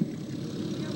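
A propeller airplane flies over at an air show for a flying circus's 50th anniversary, heard as a steady, fairly loud engine drone that holds even through the short moment.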